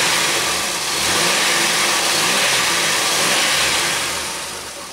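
A Pontiac Aztek engine with a gasoline issue runs a little shaky, giving a loud, continuous, close-up drone that swells as it revs and eases off toward the end, with no voices.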